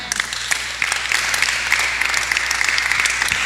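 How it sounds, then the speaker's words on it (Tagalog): A church congregation applauds, starting with scattered claps that swell into steady, dense clapping filling the room. "Palakpak."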